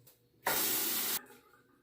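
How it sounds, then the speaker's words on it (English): Running water hits a razor being rinsed during a wet shave, as a single steady hiss lasting under a second that starts and stops abruptly, close up and otherwise quiet. "And now I'll go ahead and rinse the razor again."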